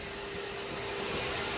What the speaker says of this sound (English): ain't the strongest blower, but shoot, it does blow.